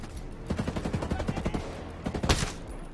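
Rapid automatic gunfire in a video game, aimed at breaking a turret, sounds as a steady stream of close, punchy shots in bursts, a brief pause, then another quick volley.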